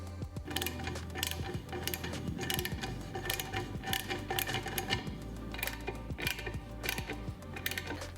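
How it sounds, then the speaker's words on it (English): Bolts on the base clamp of a 2014-2019 Harley-Davidson Street Glide handlebar being snugged up gently, heard as repeated close ratcheting clicks in short bursts with light metallic taps. "now we're gonna snug up the 4 bolts on the base clamp, just real gently"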